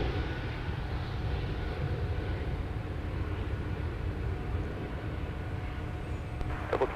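At Minneapolis–Saint Paul airport, an airliner takes off from runway 30 left, making a steady, distant engine rumble and roar that holds for the whole stretch, with a small clatter at the very end.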